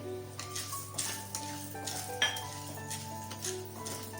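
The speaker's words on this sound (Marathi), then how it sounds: "ह्याच्याबरोबरच सगळ्या डाळी एकदमच भाजून घ्यायच्या चण्याची डाळ दोन टेबल स्पून घेतली" Chana dal and other lentils are dry roasted in a pan, with a spoon scraping and stirring at a steady pace and faint rattles of the dry grains, close and fairly quiet. Steady low tones hum beneath throughout.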